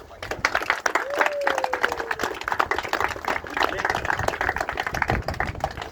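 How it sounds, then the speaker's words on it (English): An audience claps steadily and densely at a rugby league fundraising gathering, a sustained patter of many hands with a faint whistle early on. "a big round of applause for being here today."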